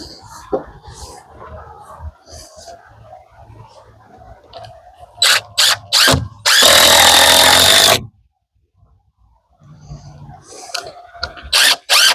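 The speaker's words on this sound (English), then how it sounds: "Let me get that screwed in" A power drill drives screws into the wooden header framing above a window in a small 8x8 tiny house build, with a few short bursts followed by one long sustained run near the mic, among scattered handling knocks.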